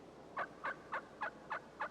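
A wild turkey gobbles in six evenly spaced bursts about a quarter second apart, clear and fairly close over a low background hiss.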